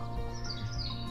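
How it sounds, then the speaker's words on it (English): Birds sing in a garden, their chirps and tweets overlapping at moderate volume over a busy, fairly loud background wash. "just sit and listen to the birds"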